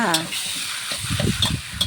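Sliced pork belly is stir-fried in a large pot with fragrant aromatics for braised pork, sizzling and scraping under a spatula as it is stirred, with a brief voice at the start.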